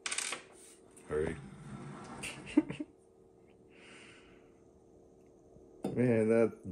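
Ice cubes knock against a glass during a Johnnie Walker Blue Label whisky tasting, giving a few sharp isolated clinks separated by quiet. A brief stretch of voice follows near the end.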